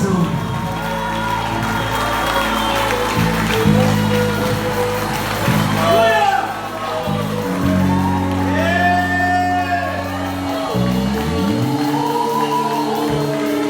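Church congregation applauding and cheering with shouts and whoops over sustained organ or keyboard chords, loud and continuous, with a preacher's voice heard through the noise.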